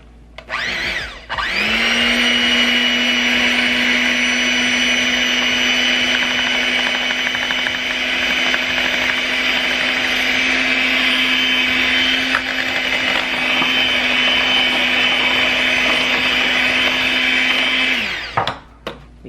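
An electric mixer whirs through banana pudding, switching on with a sharp start, holding a loud steady high whine for about seventeen seconds, then winding down and stopping, close with no talking.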